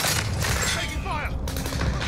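Video game gunfire crackles in a brief, close burst of rapid shots mixed with sharp impacts, a dense clatter over a low rumbling backdrop, with a voice partly audible among the noise.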